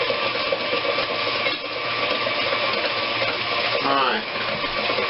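An electric mixer beats banana nut bread batter with a steady, continuous whir that stays close and loud throughout, with a brief spoken word over it.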